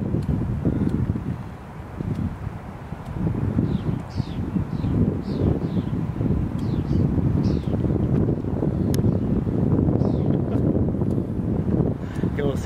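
Strong wind buffets the microphone in a steady, loud low roar, with gusty rustling throughout and a few faint chirps above.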